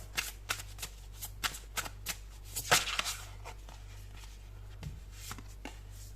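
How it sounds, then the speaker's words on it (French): Tarot cards are shuffled by hand in a quick series of crisp riffling flaps and snaps, strongest in the first half and then thinning out, fairly close and with no talk. "Alors, on va prendre une deuxième carte."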